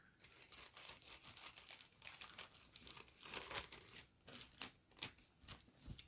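A plastic bag crinkles as a small moist towelette is pushed inside it, giving a steady run of crisp, close crackles and rustles with sharper pops near the end.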